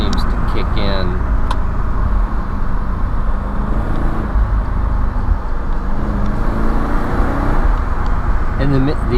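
Engine of a 2004 Mercedes-Benz CLK500 convertible V8 with manual shifting pulling hard while driving, a loud, steady roar with road and wind noise throughout.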